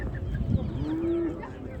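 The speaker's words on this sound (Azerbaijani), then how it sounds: "Xoruz." A rooster at a busy poultry market gives a brief drawn-out call over a steady hubbub of crowd and birds.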